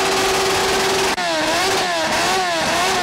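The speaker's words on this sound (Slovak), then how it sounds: "Úspech zaznamenala ale aj najhlučnejšia motorka." A very loud motorcycle at a motorcycle rally by Zemplínska šírava lake in 2019 revs hard during a noise record attempt, its engine pitch holding steady, then dropping and rising again in repeated throttle blips over heavy crowd noise.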